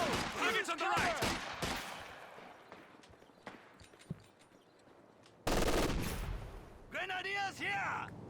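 Light machine gun fire during a Company of Heroes 2 multiplayer battle, rapid bursts of shots in the opening seconds, scattered single reports, then a loud dense volley near the end, with a voice talking over it.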